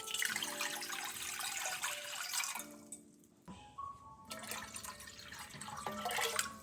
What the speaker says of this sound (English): now we have to pour water into the bowl